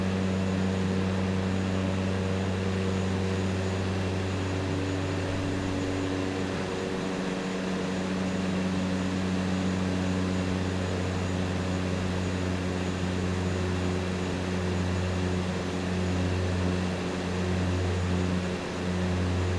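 Idling aircraft engine at fully retarded throttle in Microsoft Flight Simulator 2024, a steady low droning hum with a constant tonal whine, loud and unbroken throughout with no talking.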